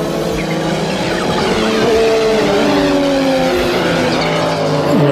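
An Audi quattro racing car with a five-cylinder engine roars loudly and continuously, its pitch sweeping up and down through gear changes, close and sustained throughout.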